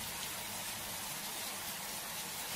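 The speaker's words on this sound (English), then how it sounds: "Rainy. Look, rain." Steady rain falls in a children's cartoon scene on a wet summer day, a dense, even hiss of drops that continues without a break and without talk.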